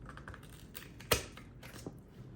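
Poultry scissors cut through a raw turkey's spine for spatchcocking, with a few small clicks leading to one sharp, loud crunch and a fainter snip shortly after.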